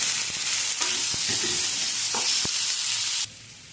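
Loud continuous sizzling of onions and tomatoes frying in a pan, with a few scraping stirs.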